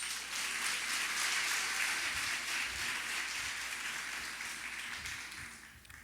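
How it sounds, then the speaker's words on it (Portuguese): A congregation applauds at a women's church retreat, a broad, steady rain-like patter of many hands that holds for several seconds before tapering off near the end. "Aplauda o Senhor por isso."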